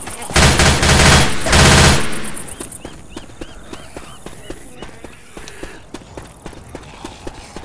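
Zombie-shooting gunfire in Left 4 Dead 2 opens with two loud, dense automatic bursts, then thins into scattered single shots and quicker clicks and thuds over game noise.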